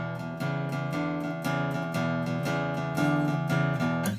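Electric guitar playing a shuffle blues rhythm, a steady loping groove of repeated chord stabs, close and fairly loud with no talking.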